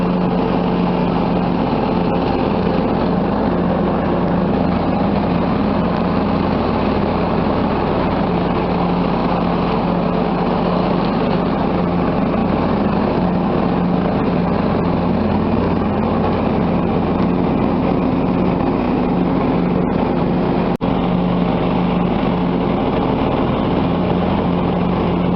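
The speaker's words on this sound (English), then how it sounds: "the next thing you see will be the John Deere tractor mulching the leaves" John Deere L110 lawn tractor mulching leaves, its engine running as a steady, unbroken drone from start to finish.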